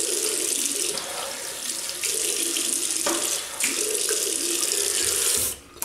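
A Gillette Heavy Superspeed safety razor is rinsed under a running tap, with water gushing steadily into a sink for several seconds before it cuts off near the end.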